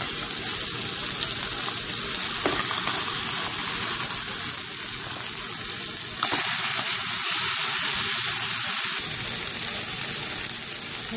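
Fish fillets sizzle steadily in a hot pan as they are turned over, with a constant bright crackle of oil and a brief scrape and stir partway through, close and fairly loud with no talking.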